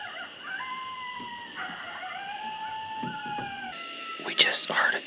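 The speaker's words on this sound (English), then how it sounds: "We just heard a coyote behind us." Long, wavering howls rise and fall over a soft outdoor hiss, fairly distant, followed by a brief burst of rustling near the end.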